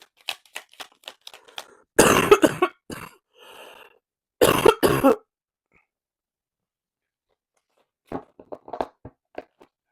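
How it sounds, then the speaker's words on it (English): Repeated bursts of coughing, a couple of heavy fits with smaller hacks and throat clearing between, close to the listener with quiet gaps. "I don't know why I'm coughing so much."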